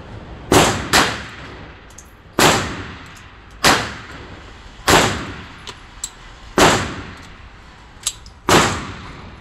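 Seven sharp reports ring out from an Armi Tanfoglio .25 caliber pistol at a firing range, each a loud close crack with a short echoing tail, spaced unevenly over several seconds.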